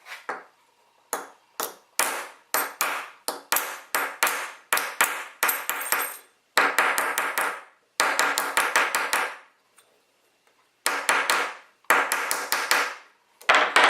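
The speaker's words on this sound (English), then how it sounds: "I'm going to hit it a couple more times in the middle just to make sure I got the center deep as" A metal jewelry piece is domed with a hammer in rapid ringing strikes, grouped in bursts with short pauses between them. The blows are close and loud, with no voices.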